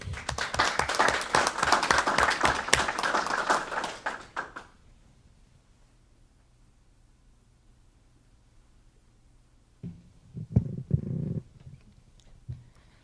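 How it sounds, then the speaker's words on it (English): Audience applause at a school board meeting, a dense burst of clapping for a student speaker that runs for about four seconds and then cuts off, leaving a quiet room before some faint noises near the end. "So can we clap it up for Nicolette?"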